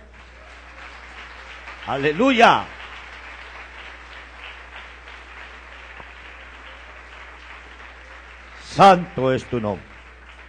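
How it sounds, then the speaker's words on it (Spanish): A church congregation applauds during a Spanish-language sermon, the clapping a low steady wash beneath two loud shouted exclamations of praise, one early and one near the end. "Un aplauso al Señor."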